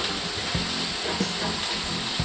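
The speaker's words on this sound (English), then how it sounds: "facciamo cucinare un po' la cipolla." Onion frying in a pan, a dense, continuous close-up sizzle with a few soft thumps from stirring, with no talking.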